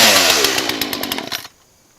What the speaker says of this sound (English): you need to make sure that this chainsaw actually works